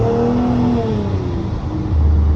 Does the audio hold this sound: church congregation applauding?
no